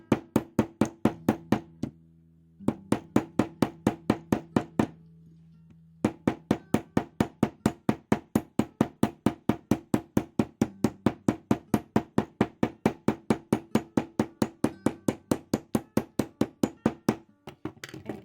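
A nylon-head jeweler's hammer strikes wire on an anvil while shaping a wire tree pendant, making a long run of steady, evenly spaced sharp taps broken by a few brief pauses, close and alone.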